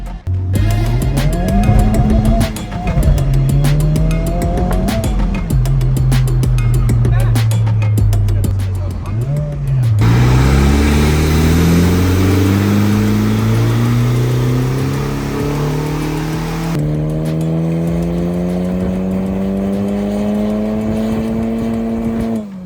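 A modified Honda Civic Type-R in R mode with its exhaust valves open revs hard and loud, pitch climbing and falling through repeated pulls before a long rising run, close to the car with no talk over it.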